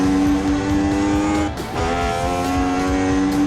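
Race car on the old Österreichring at the 1979 Austrian Grand Prix in Assetto Corsa, engine droning loud and near, briefly dipping and then rising again as the throttle opens out of a corner, with no talk.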